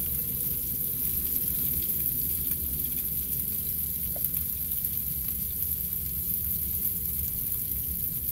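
Food frying in a pan for a fry-up, a loud, continuous crackling sizzle with no pauses, close up and heard alone.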